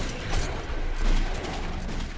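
Gunfire in the shooter game Metro 2033 Redux, a dense, noisy rattle of shots blending into a continuous roar with a few stronger bursts and no clear gaps.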